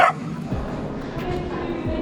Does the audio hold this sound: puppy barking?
yes